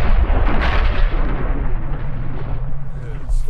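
A guided anti-tank missile detonates with a heavy, rumbling low boom that rolls on and sustains throughout, loud and close, with a voice faintly under it.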